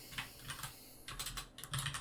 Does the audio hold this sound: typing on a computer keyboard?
yes